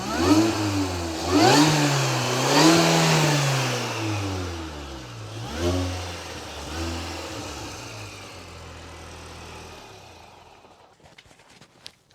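A Mini Cooper S R53 with an induction kit blips its throttle in repeated quick revs, each rising and falling, then settles into a steady idle before clicks at the end.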